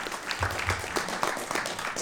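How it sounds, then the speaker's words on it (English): Audience applause at a 2019 general election hustings in Kettering: a dense, steady patter of many hands clapping at moderate loudness, with faint voices beneath. "Let's all give Clare a round of applause."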